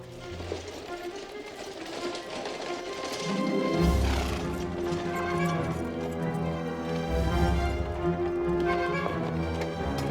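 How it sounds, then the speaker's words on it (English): Horse and cart on the move: a horse neighs and hooves clip-clop at an even pace, with rumbling wheels and tonal music swelling underneath. "There was a horse and cart in those stables."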